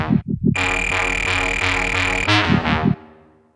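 A looped bass line plays with a drum pattern layered on it, built on a Boss RC-505 MK2 loop station. Punchy, distorted bass notes and beats repeat in a steady rhythm, loud and close, and the sound trails off at the end.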